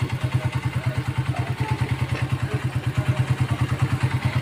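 A Honda 125 Special Edition motorcycle with a battery and rectifier voltage fault idling close by, its low pulsing putter repeating in a steady rhythm with some mechanical clatter.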